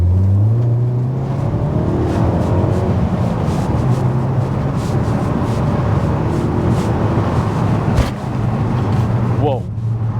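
A Ford Focus ST3 accelerates hard with traction control switched off, its engine drone climbing in pitch over loud road and cabin noise while someone talks.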